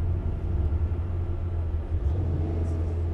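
A Porsche pulls away in traffic, a steady low engine rumble close by with slight swells, no talk over it.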